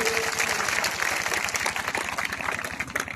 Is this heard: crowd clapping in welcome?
yes